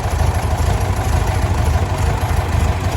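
A 1967 VW Beetle engine, its carburetor previously varnish-filled, idles with a steady, loud, throbbing low rumble close by, running evenly without pause.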